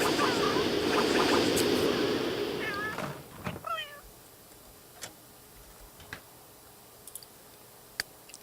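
A cat in The Sims 3 meows a couple of times after a loud rushing wash fades, followed by sparse sharp clicks and ticks in a quiet room.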